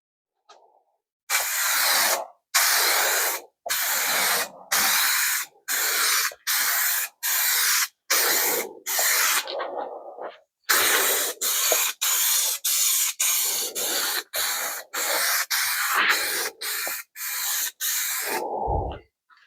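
Close bursts of spray paint hiss out in short, regular passes separated by brief pauses, painting a Range Rover L405 wing mirror cover, about two dozen strokes with no speech.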